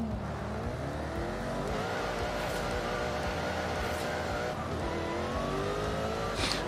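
A Jaguar XKR-S GT accelerates hard from a standstill in Forza Horizon 5, its engine note climbing steadily through the gears with brief dips at each shift, loud and continuous with no talk.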